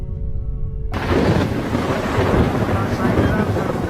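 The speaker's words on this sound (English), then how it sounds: "hit by powerful thunderstorms with heavy rain and squally winds" Thunder rolls through a powerful thunderstorm with heavy rain and squally winds in Sindh, Pakistan, a deep rumbling roar that breaks in abruptly and keeps grumbling loudly beneath blustery wind noise.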